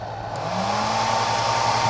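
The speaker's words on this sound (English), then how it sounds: "So that's a hair dryer. That's on the hot setting, almost 14 amps." A hair dryer blows steadily on its hot setting, drawing close to 14 amps, with a continuous, loud, even whoosh and motor whine that holds for the whole moment.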